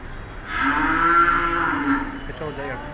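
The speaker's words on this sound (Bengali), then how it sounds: "এটা হচ্ছে দামন গরু" A single long, close moo comes from a large Daman cow at a cattle farm in Old Dhaka. It rises and falls over about two seconds, with farm ambience before and after.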